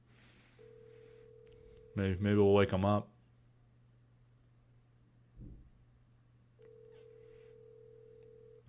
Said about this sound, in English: It's ringing. He didn't shut off his phone.